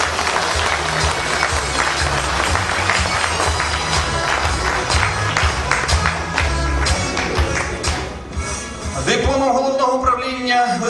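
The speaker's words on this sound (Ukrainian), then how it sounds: "Ваші оплески!" Sustained applause from a large crowd, steady and loud for several seconds, fading slightly near the end as a voice begins.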